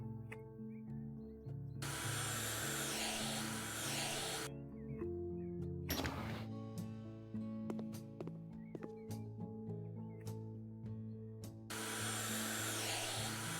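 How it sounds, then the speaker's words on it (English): A window vacuum cleaner runs in the video game House Flipper. It gives a loud whirring drone in two long stretches with quieter mechanical clatter and clicks between them, and there is no talk. "It seems like a window vacuum cleaner."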